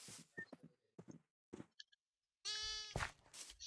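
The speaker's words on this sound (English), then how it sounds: "I can hear the little baby making a sheepy noise" A small baby sheep in Minecraft gives a short, clear bleat near the end, preceded by scattered soft knocks and clicks in an otherwise quiet scene.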